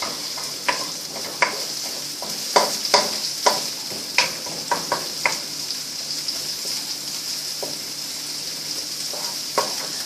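Chicken stir fry sizzles in a hot pan with sesame oil, a steady frying hiss punctuated by a series of sharp clicks and scrapes from stirring, close and moderately loud, without voices.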